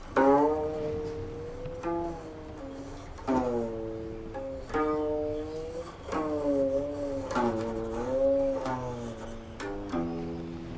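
Plucked guqin notes bending and sliding in pitch as strings are pressed, a flowing melodic line of gliding tones with a few fresh attacks.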